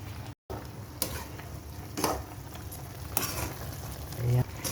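Chicken adobo, cooked extra spicy, sizzles and fries in a pan while being stirred, with a steady frying hiss and a few louder scraping stir strokes spaced through it.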